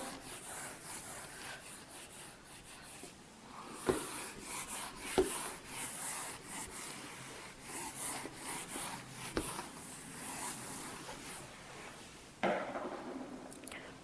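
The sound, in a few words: rubbing out working notes on a board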